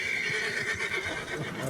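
A horse neighs in Red Dead Redemption, a close, loud whinny with faint hoof clops, as players talk over it.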